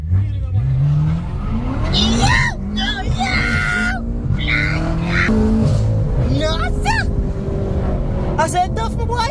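BMW M6 V8 engine pulling hard, revving up through gears with rising tones and loud mechanical roar, close by, while people shout and talk excitedly over it.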